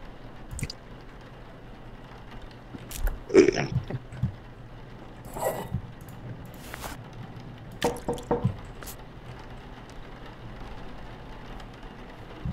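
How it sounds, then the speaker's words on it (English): Chemical glugging into an embalming machine in the Mortuary Assistant horror video game: soft wet squishing and dripping bursts recur in short clusters over a quiet room hum, close and fairly faint, with no talking. "That's the sound of the chemical going in there."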